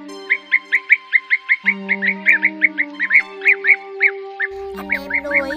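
A recorded flock-gathering call of the bee-eater (trảu): rapid, evenly spaced chirps repeat in a steady rhythm, loud and clear over a low electronic drone, with a brief change in backing tone near the end.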